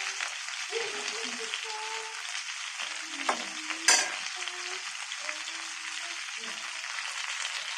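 Valanki fish fries in a pan with a continuous crackling sizzle, broken by scraping and a sharp clink of a utensil against the pan, plus faint tonal hums underneath.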